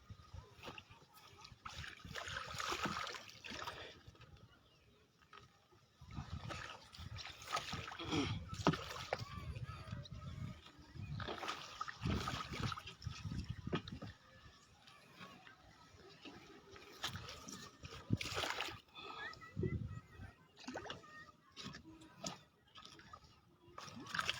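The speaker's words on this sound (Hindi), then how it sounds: "तो थोड़ी सी परेशानी हो रही है नाव ले जाने में।" Small boat pushed across a flooded field of ripe rice after a storm, with repeated splashes, sloshing water and knocks of the hull, close by, while someone talks over it.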